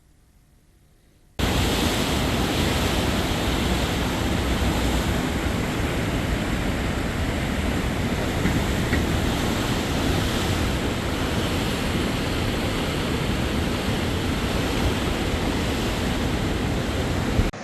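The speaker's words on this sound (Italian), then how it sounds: "È esondato stanotte il fiume Salso a causa del maltempo." Floodwaters of the Salso river rushing after a storm, a dense, steady roar that starts abruptly and holds loud and unbroken throughout.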